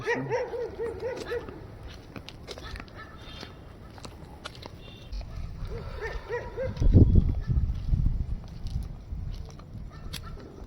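Dogs barking at night near a temple, a run of repeated yelping barks at first, then a quieter stretch before more barking returns alongside low rumbling handling noise, moderately distant.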